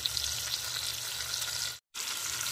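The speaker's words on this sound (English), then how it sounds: "at this point we're done searing" Beef sears in a pot for pot roast with a steady, close sizzle of frying. A brief silent gap cuts in near the end.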